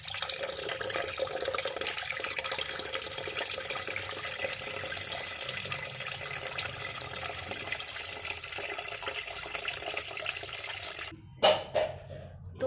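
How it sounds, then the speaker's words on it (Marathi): Plain water pours steadily into a container of thick mustard cake fertilizer to dilute it, a continuous broad splashing rush lasting about eleven seconds before stopping, followed by a few short clunks. "आता याच्यामध्ये आपल्याला साधारण 1-2 लिटर साधं पाणी ॲड करायचं आहे आणि हे डायल्यूट करून घ्यायचं आहे"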